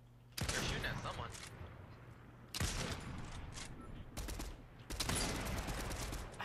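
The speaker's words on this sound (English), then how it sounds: "They're shooting at someone." Bursts of rapid gunfire from the video game Fortnite erupt in three or four loud volleys separated by brief pauses.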